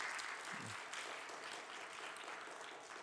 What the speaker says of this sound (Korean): 우리 임원순에게 다시 한번 격려의 박수 하면 좋겠습니다